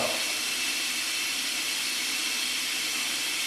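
Water runs from a bathroom tap during a shave, a steady close rushing hiss that holds unchanged for the whole stretch with no talking.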